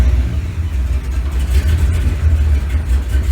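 Loud, steady idle of a 1970 Chevelle's engine and exhaust, heard from inside the car as a deep low rumble with slight pulsing and no one speaking.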